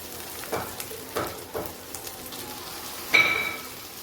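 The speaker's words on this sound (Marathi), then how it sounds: "एक 2 मिनिटांसाठी मीडियम आचेवरती आपण फ्राय करून घेऊया" Ivy gourd (tondli) and potatoes fry over medium heat in a kadhai, a soft sizzle broken by a few spatula scrapes and a brief metallic clink near the end, no voices.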